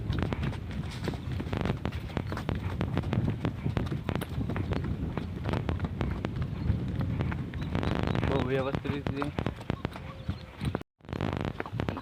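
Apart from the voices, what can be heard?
horse hooves walking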